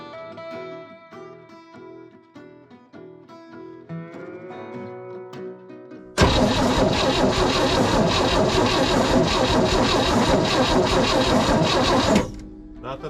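A 1964 dump truck's engine cranks loudly and continuously for about six seconds without catching, then cuts off abruptly; quieter talk and mechanical noise come before it.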